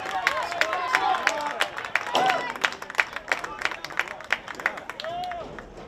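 Fans at a boys soccer match, Orchard Lake St. Mary's against Macomb Lutheran North, murmuring and clapping in scattered bursts, with a commentator talking over the crowd.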